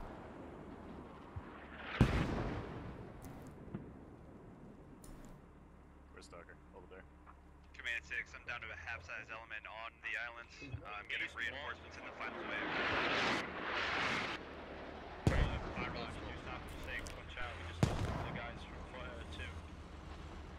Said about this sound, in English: Lots of mortar fire now, and this is a problem.